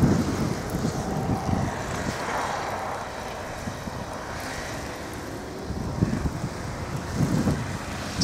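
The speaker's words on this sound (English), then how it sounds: "It's a blizzard, folks." Blizzard wind roars and gusts steadily around a vehicle driving in whiteout conditions on M32 in Alpena, Michigan, with loud broadband rushing and buffeting throughout.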